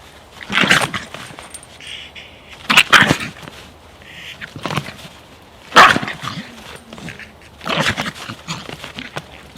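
An aggressive Jack Russell Terrier barks and yaps in sharp, loud bursts, several clustered outbursts spread irregularly with short pauses, close by and alone without talk.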